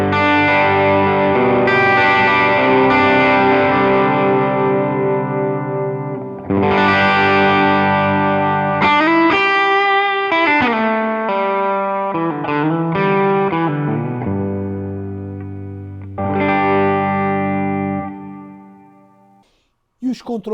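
An electric guitar plays through a ToneX pedal set to a Super Reverb amp model. It rings out loud, driven chords and bending single notes with long sustain and a few short pauses, and ends abruptly.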